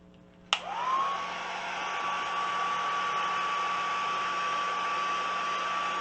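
Hair dryer switches on with a sharp click and then blows steadily to dry a freshly stamped scrapbook test print, a loud, close, constant whooshing hum with a high whine throughout.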